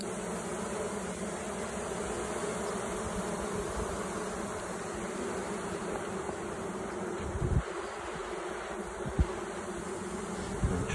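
A honey bee colony nesting inside a mobile home trailer gives off a steady, dense buzzing hum close by, with a few thumps and knocks near the end.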